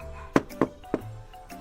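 Three sharp knocks on an electric scooter's hard plastic body panel, evenly spaced and close, each a short hollow tap with quiet gaps between.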